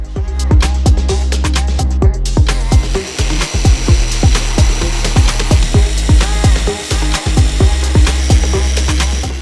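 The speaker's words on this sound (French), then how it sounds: "nous utilisons la scie à ruban pour métal" Metal band saw cutting square steel tubes to length, with a loud, harsh run of regular rasping strokes and sharp bites that repeats steadily and unbroken from start to end, close up and alone.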